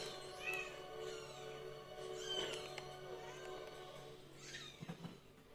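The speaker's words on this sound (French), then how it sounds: "Ça miaule tout le temps là-dedans." Several cats meow repeatedly, with rising and falling calls scattered across the stretch alongside steady game music, and a sharper cluster of sounds near the end.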